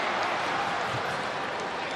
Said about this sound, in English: The crowd rising.